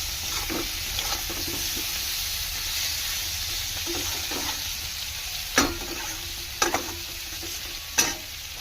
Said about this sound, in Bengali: লবণ হলুদ দিয়ে ভালো করে ভেজে নেব পেঁয়াজের সাথে সিদ্ধ আলুগুলোকে।